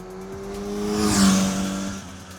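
Kawasaki Ninja 1100SX inline-4 engine revving smoothly, its steady tone rising to a peak around the middle and easing off again, close and moderately loud with no talk.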